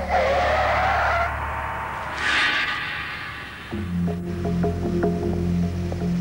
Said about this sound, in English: I was distracted by screeching of brakes.